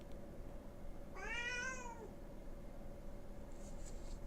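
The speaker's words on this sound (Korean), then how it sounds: "하고 싶은 말이 많은 저희 집 고양이." A house cat lets out a single drawn-out, rising-and-falling meow, clear and close in a quiet room, followed later by a faint short chirp.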